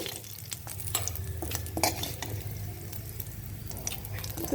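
Garlic tempering sizzles in a pan while a spoon stirs it, a soft continuous frying hiss broken by scattered scraping clicks and light metal taps against the pan.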